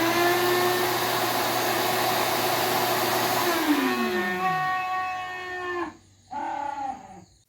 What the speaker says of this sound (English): my vacuum makes a crap noise when I turn it off.